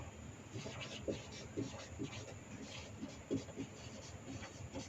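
Chalk or marker taps and scratches on a board in short, irregular strokes, fairly faint and close, with a quiet background and occasional low murmurs.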